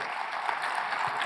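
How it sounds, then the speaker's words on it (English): Audience applause at a panel discussion on global AI, heard as a steady dense wash of many clapping hands, moderately loud and continuous across the moment with no talk over it. "give a round of applause."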